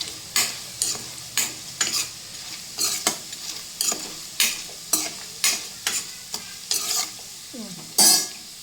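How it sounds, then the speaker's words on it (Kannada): Paneer cubes fry in a pan while a utensil stirs them in regular scraping strokes, each one lifting the sizzle, with a louder clatter near the end. "ಈ ಥರ ರೆಡಿ ಅದು ನಮ್ಮ ಪನ್ನೀರ. ಈ ಥರ ಫ್ರೈ ಆಗೋದು."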